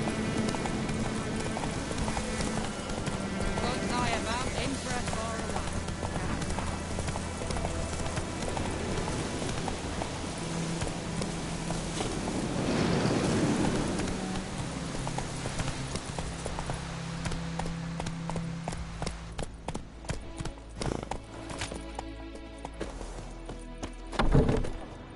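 Horse hooves pound in a steady galloping rhythm in The Witcher 3, running continuously over game ambience and music, with a brief heavy thump near the end.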